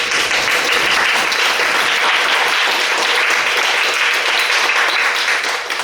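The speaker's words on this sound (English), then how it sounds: "Please a big applause." Sustained, dense applause from a lecture audience at Fu Jen Catholic University, following a talk on the Jewish background of Jesus. The clapping stays steady and full for about six seconds, with no voices over it.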